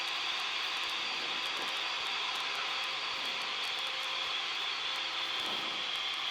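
A light training airplane rolls along the runway at LFPN after landing, its piston engine droning steadily and loudly close by for several seconds with no speech over it.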